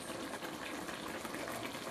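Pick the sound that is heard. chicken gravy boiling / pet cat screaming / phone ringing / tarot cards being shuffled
chicken gravy boiling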